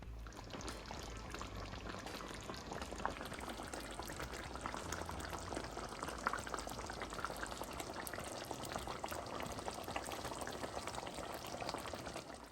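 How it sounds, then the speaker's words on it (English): Guinness beef stew in a pot bubbling steadily with the heat just turned off, a dense continuous wash of small pops and gurgles, close and even throughout with no talk. "the bubbling a simmer down, as in the bubbles are reducing because the fire is now off"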